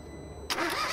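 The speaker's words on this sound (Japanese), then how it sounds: "ではエンジンをかけてみます。" A Renault Twingo three-cylinder engine cranks and fires up abruptly halfway through, after a quiet lead-in, settling into a loud, close mechanical idle.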